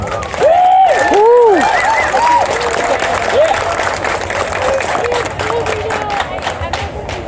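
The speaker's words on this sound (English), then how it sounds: "So give a round of applause, please, for Nashville Kendo Club." Crowd applauding and cheering for the Nashville Kendo Club at a cherry blossom festival demonstration, with claps and voices mixed together and a whistle-like tone rising over the noise at the start.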